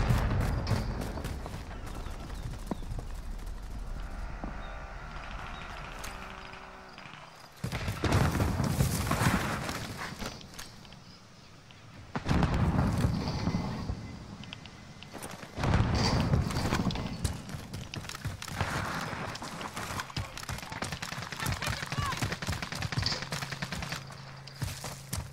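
Video game gunfire in Warzone with a Milano and Kar98 loadout: rapid bursts of loud, crackling shots come in several heavy volleys separated by brief quieter gaps, with no talk.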